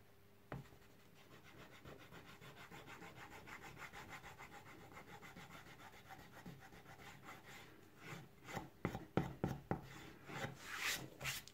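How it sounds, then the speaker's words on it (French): A rubber eraser rubs pencil layout lines off wood for dovetail marking, making soft scratchy strokes that grow into quick, rhythmic back-and-forth scrubbing toward the end, close and fairly quiet. "je vais gommer ce qu'on avait tracé au préalable"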